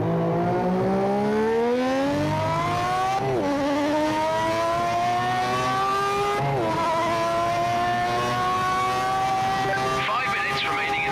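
A race car engine in the Project Motor Racing video game revs up through the gears in long rising sweeps, with sharp drops at each upshift, loud and close throughout, with faint tire noise underneath.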